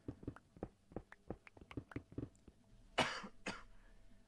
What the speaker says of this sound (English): my cough's starting to really come back